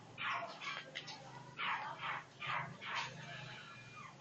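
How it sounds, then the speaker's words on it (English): A beagle barks repeatedly from a distance, roughly six or seven yelping, slightly howling barks in an uneven rhythm over faint room noise. "Maybe that's because the beagle has a different kind of bark."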